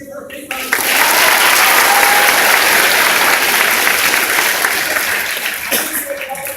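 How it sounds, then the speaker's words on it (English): An audience at a school music honors event breaks into a dense, sustained round of applause that starts suddenly, stays loud for several seconds, then fades as a voice returns. "If we just give her a big round of applause."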